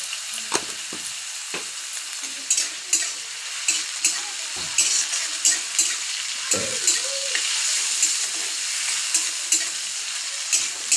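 Chopped onion, tomato and carrot fry in a pan, a steady close sizzle broken by repeated spatula stirs and scrapes, with no talking.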